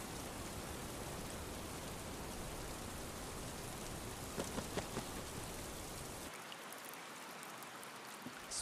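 Steady rain falls through a tropical forest, a dense, even hiss of drops on leaves and surfaces with a few brief louder patters, continuing alone without voices.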